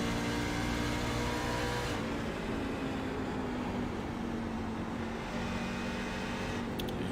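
A racing truck engine drones steadily in a racing video game at Rockingham, holding a sustained tone that shifts pitch slightly as it rolls through a corner and eases off.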